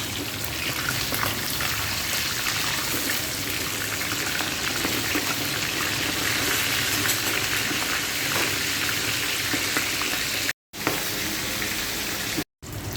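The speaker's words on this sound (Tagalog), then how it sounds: "Fish talakitok guys, ipa-fry natin yan." Talakitok fish frying in hot oil, a dense continuous crackling sizzle held at steady loudness throughout, close up, with two abrupt brief dropouts near the end.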